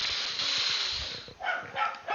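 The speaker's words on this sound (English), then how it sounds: "Sorry for my dogs, guys." Pet dogs in a home, a couple of short barks and yips heard somewhat faintly, partly under a hiss of background noise and nearby mic handling sounds.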